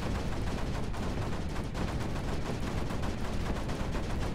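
Turrets in the strategy video game Creeper World 4 fire continuously, producing a dense, steady barrage of rapid shots with no pauses and no talk over it.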